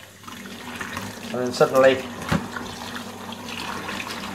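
Water from a tap filling a cup for rinsing, a steady running stream with a gurgling rise as it fills, under a person talking.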